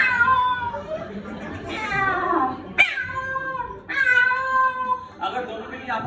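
A voice mimics a cat, producing a run of drawn-out, tonal meows with a sharp yowl in the middle, close and fairly loud, in a room where children are being led through animal sounds.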